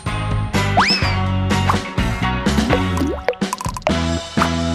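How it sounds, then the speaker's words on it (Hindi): Water is added to gelatin in a kitchen, giving wet drips, splashes and squishy pops over a bright cartoonish music bed, short and busy with no talking. "फिर थोड़ा पानी मिलाऊंगा"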